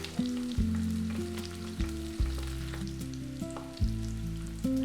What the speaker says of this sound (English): Let's flip our mushrooms.